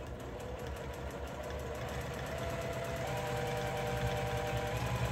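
A sewing machine doing free-motion quilting on a large quilt, a steady mechanical hum with a rapid regular stitching pulse throughout, close and continuous with no talk.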